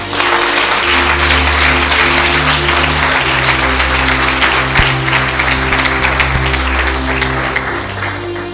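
Loud, dense applause from a church congregation fills the space with steady clapping that carries on without pause, while sustained music tones play underneath.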